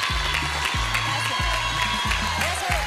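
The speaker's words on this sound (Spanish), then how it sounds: "Fuerte aplauso para Oti, por favor." A studio audience on the Spanish TV talent show La Voz claps and cheers steadily for a singer, a broad, continuous wall of applause with some whoops and a low musical pulse beneath.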